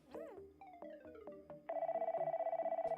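In the game Squeakross: Home Squeak Home, a phone gives a chirpy electronic melody of quick tones, then settles into a steady, rapidly pulsing ring.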